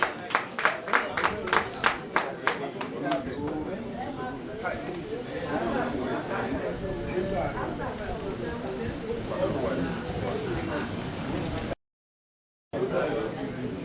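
An audience at a school alumni set's 40th anniversary celebration in Ilorin claps in a broad round of applause, with a few distinct sharp claps at first, then sustained crowd clapping and murmuring voices, briefly cut out near the end.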